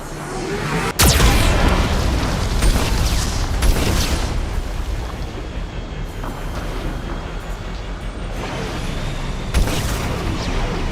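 Heavy booming blasts from a Geth cannon in the Mass Effect 2 video game, a sharp loud explosion followed by continuous rumbling bursts and crackling debris, with another strong hit near the end, all without speech.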